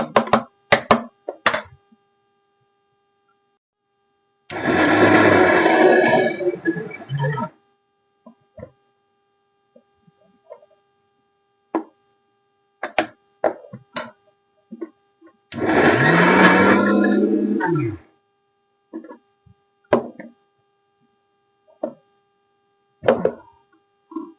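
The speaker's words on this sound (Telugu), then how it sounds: "ఇవన్నీ వేసిన తర్వాత మళ్ళీ ఒక్కసారి మిక్సీ పట్టేస్తాను" A mixer grinder whirs in two loud bursts of about three seconds each, blending chutney ingredients for a tangy bean pachadi, with short knocks and clatter and brief gaps of quiet between them.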